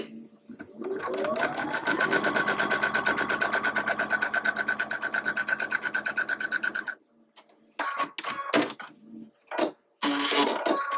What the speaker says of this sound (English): now I'm going to sew this, I'll use this side of the fabric, onto the other edge at a 1/4 inch seam allowance